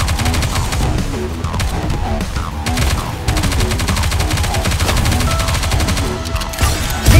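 Sustained rapid gunfire in the game NIKKE, a dense loud machine-gun barrage of overlapping shots running throughout with a burst at the end.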